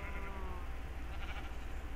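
A sheep bleats in Minecraft, a short wavering call over a loud, steady low hum of game background sound.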